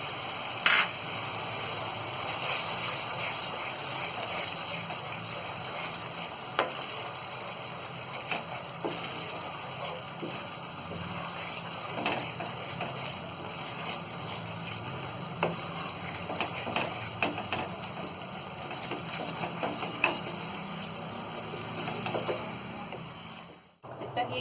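Chole masala gravy fries with ground poppy seed, coconut and garam masala paste, giving a soft, continuous sizzle with occasional stirring scrapes, fairly quiet and steady throughout.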